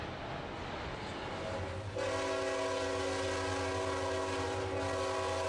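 A Dash 9-40CW standard-cab diesel locomotive leads a passing train, its loud multi-chime horn blasting a sustained chord over the rolling rumble of the train, close by and alone.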